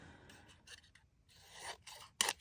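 Scissors snipping down a piece of scrapbook paper in several short, close, crisp cuts with brief pauses between them, finishing with a sharper final snip.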